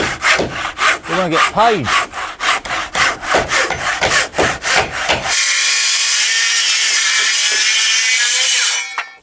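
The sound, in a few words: Milwaukee Sawzall with demolition blade cutting wooden rafters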